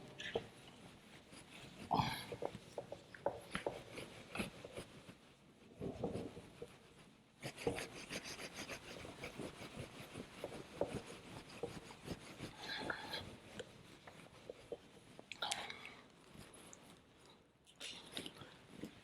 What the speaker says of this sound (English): So now I'm just rubbing it out and just giving you some examples to show this.